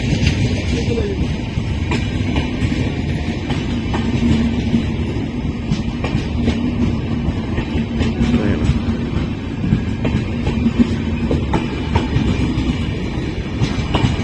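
A train runs at Budhlada railway station at night, a loud, continuous rumble of wheels and carriages with faint clatter throughout, close by, and some voices in the background.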